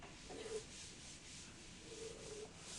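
A pencil draws light construction lines across paper for a technical drawing of a nut and bolt, making a soft, continuous scratchy rub close by that rises slightly with each stroke.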